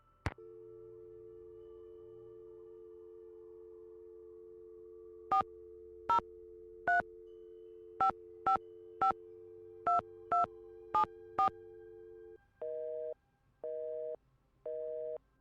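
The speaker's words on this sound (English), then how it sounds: "Sounds like she has her phone off the hook." A telephone tone in the Nancy Drew video game: a steady, unbroken hum for about twelve seconds with short beeps over it, then evenly spaced busy-signal pulses repeating to the end, clear and alone.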